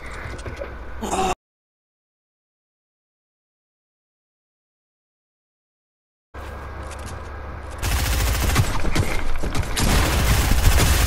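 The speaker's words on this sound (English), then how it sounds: "shotgun from the side" Shotgun fire in the video game Fortnite, a burst of booming gunshots loud and close, followed by a gap of silence and then dense continuous gunfire and action sounds.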